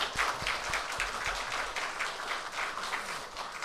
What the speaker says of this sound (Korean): 우리 성가대 분들에게 다시 한번 우리 감사의 박수